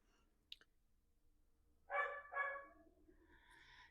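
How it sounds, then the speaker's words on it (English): Two quick dog barks sound somewhat distant in a quiet space, followed by a fainter third bark, with a small click before them. "If y'all can hear the dogs, they've decided it's dinner time"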